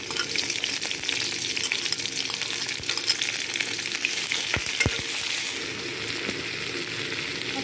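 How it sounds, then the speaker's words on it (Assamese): Sliced onions frying in hot oil for a pork dish, a steady close sizzle and crackle with a few sharp spatula knocks against the pan while stirring, no voices. "তেলখিনি গৰম হওঁতে পিয়াজখিনি দি দিলো মই।"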